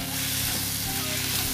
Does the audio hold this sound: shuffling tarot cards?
no